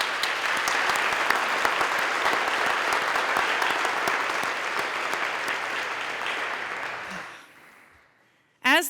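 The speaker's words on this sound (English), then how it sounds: "Please join me in giving all of those students, those PSEO students, a big round of applause." At a college commencement ceremony, an audience applauds graduating high school PSEO students with steady, full, sustained clapping for about seven seconds before it cuts off, followed by a short loud noise.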